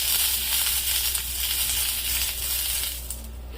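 Butter sizzles on a hot dosa griddle while grilled pineapple is made, a steady bright hiss that holds at moderate level throughout and eases slightly near the end, with no talking.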